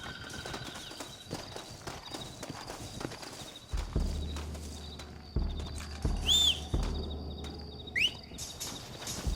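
Horses' hooves clip-clop at a walking pace in the Red Dead Redemption video game, a steady trotting patter with occasional heavier thuds and a few bird-like whistles over a quiet outdoor ambience.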